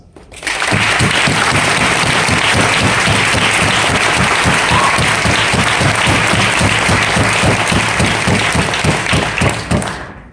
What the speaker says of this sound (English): I ask that we give a round of meaningful applause